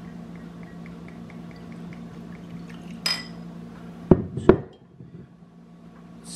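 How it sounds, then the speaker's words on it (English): Laws Four Grain Straight Bourbon poured into a glass: a soft, steady trickle, then a few bright clinks and knocks of glass near the end, close and moderately quiet, with no talking. "It's already making that bubbling sound as I'm going to pour it."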